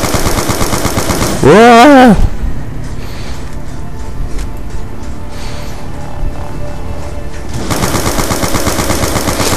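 Dense automatic gunfire from Call of Duty Origins zombies mode fills nearly the whole stretch, dropping back briefly in the middle while a voice exclaims, then returning at full loudness.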